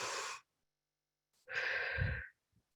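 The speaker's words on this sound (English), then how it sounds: "take a deep breath all together on the count of 3" A group inhales together and then lets out a long, loud collective exhale, two broad breathy bursts separated by a pause, with no talking.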